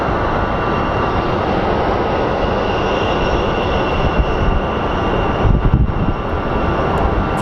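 American Airlines Airbus A321 departing Phoenix Sky Harbor, a broad continuous jet roar that holds steady and loud from a distance, with no talk.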